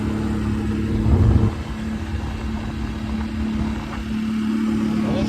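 Steady engine drone of a 4-wheeler ATV running on a cattle farm, a constant low hum with a brief louder surge near the start, no talking.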